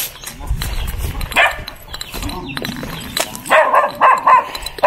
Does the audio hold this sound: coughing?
no